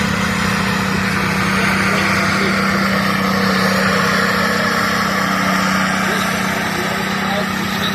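A restored, rebuilt Valentine tank runs at a vehicle show, its engine a steady loud drone with a strong low hum that stays even throughout while someone talks over it.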